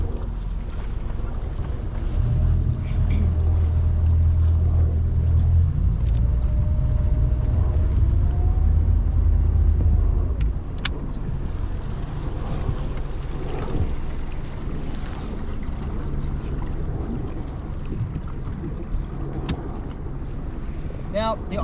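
Boat turning around on a glacier lake at the Tasman Glacier in New Zealand, a low engine rumble rising then easing under steady wind buffeting the microphone, with faint voices in the background.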